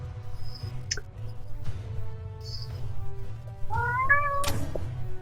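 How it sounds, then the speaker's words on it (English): A house cat meows a few times, close and clear, over a low steady hum, with a longer rising meow near the end. "That's my kitty cat."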